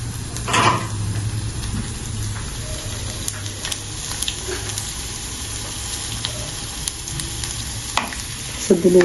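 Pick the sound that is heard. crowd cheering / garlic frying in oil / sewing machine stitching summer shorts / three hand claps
garlic frying in oil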